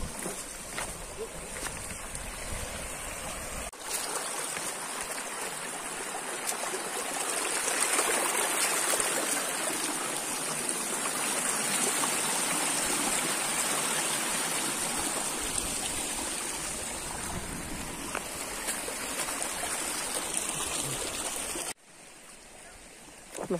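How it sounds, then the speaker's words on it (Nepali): A sizeable forest stream rushing steadily along a jungle footpath, a constant broad wash of flowing water that lasts almost the whole stretch before cutting off briefly near the end. "अनि खोला त ठिकै ठुलै रहेछ त।"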